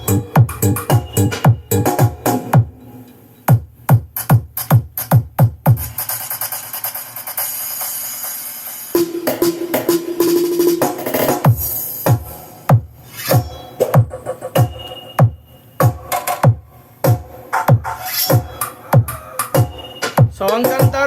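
A DJ remix with a punchy repeating kick beat plays loudly through a Joson Kanta Pro amplifier setup, broken by a noisy swept break in the middle before the beat returns.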